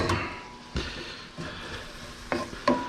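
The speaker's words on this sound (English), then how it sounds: "you can see it sizzling a little bit because the pan did have some heat to it" Clams sizzle softly and steadily in a hot pan in the background while a few sharp clinks and scrapes of a utensil against the pan cut through.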